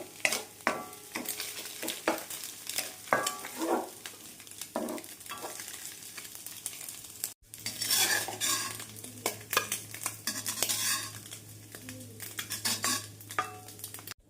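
Egg fries in a pan for street-style chicken noodles, with a low steady sizzle under frequent sharp scrapes and taps of a spatula against metal, close by, the frying briefly cutting out and resuming louder, no speech.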